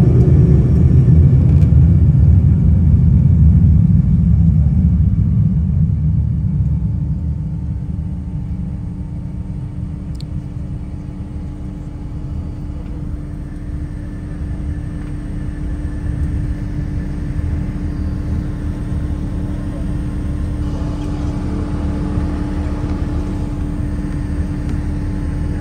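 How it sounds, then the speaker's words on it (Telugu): A passenger jet takes off at a domestic airport, heard as a loud, broad engine roar that eases after several seconds into a steady, lower rumble lasting the whole stretch, with no talking. "సో ఇప్పుడు ఈ ఫ్లైట్ ఎగురుతుంది"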